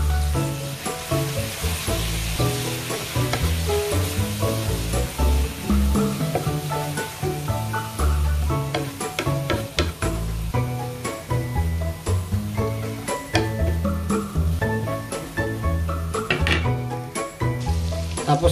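Tilapia fillets in buttered garlic sauce, darkened with a little oyster sauce, sizzle steadily in a hot pan while a spoon stirs them, with scraping and tapping that continue throughout.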